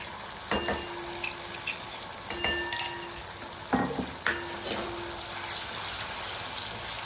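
Ground chili paste sizzles and fries in a pan, a steady close hiss broken by several sharp clanks and scrapes of stirring.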